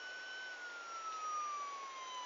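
A thin electronic toy siren tone slowly glides downward in pitch, steady and tinny, with no voices.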